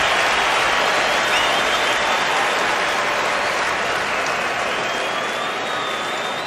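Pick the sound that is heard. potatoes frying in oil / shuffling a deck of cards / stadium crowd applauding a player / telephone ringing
stadium crowd applauding a player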